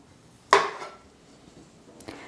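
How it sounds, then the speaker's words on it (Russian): A knife strikes a cutting board with a sharp chop, trimming the end off a zucchini, followed a second and a half later by a second, lighter cut. "Отрезаем хвостик и все ненужное"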